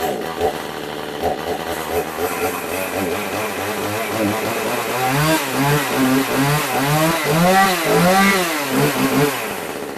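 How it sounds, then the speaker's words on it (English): A chainsaw runs close and loud after being started, its two-stroke engine buzzing steadily at first and then revving up and down in repeated rising and falling surges. "Sorry about the noise, but that's my chainsaw ready to go to work."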